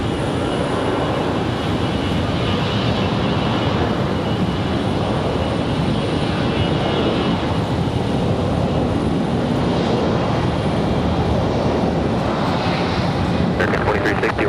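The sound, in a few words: jet airliner at Raleigh-Durham airport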